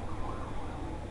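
Emergency vehicle sirens outside blend into a steady, distant wash of broadband noise, with no voices over them.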